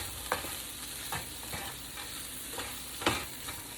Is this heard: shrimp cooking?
yes